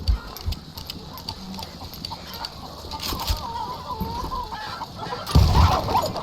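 A chicken in the Western shooter Call of Juarez: Gunslinger gives a brief, loud squawk as it is killed near the stables, following a stretch of gunfight ambience and scattered game noise.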